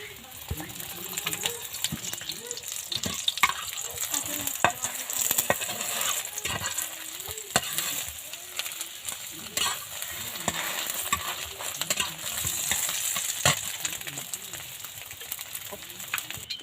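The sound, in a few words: eggs frying and being stirred in a pan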